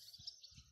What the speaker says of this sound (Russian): Ласточка сидит, чирикает.